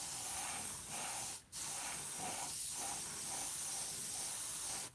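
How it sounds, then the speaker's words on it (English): Airbrush spraying varnish evenly over a scale model gives a close, steady hiss that breaks off once briefly and then resumes, with no voices. "And then you want to hold your airbrush at a distance"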